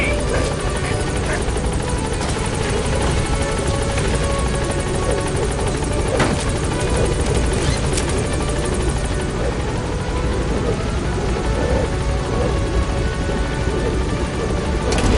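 The Pequod helicopter from Metal Gear Solid 5 comes in to land, its continuous loud rotor thrum and turbine whine steady throughout, with no voices over it.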